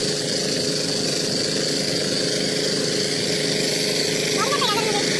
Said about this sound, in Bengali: এটাই হচ্ছে ডেজার মেশিন